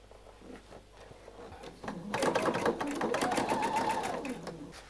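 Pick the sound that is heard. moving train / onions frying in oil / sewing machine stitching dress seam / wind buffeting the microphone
sewing machine stitching dress seam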